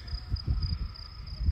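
A thin, high grasshopper chirp pulses in short bursts over low rumbling background noise, faint and fairly distant, in green mountains near Makkah after heavy rain.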